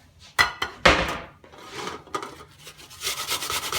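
An apple is rubbed against a large grater with a few sharp scraping strokes and knocks, close and clear, followed by a softer rasping stretch, with no talking.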